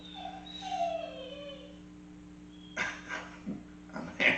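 A dog whimpers in high, wavering whines close by, followed by a few short yips and snuffly sounds, over a steady low electrical hum.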